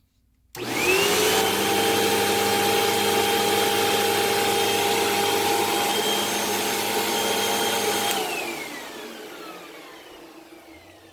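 Hoover Elite Rewind UH71013 upright vacuum cleaner switching on with a sudden loud motor whine, running steadily for about eight seconds, then powering down and spinning out gradually.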